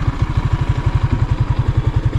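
A motorcycle engine idles close by with a steady, rapid low-pitched chugging pulse that runs without a break, loud and alone, with no talk over it.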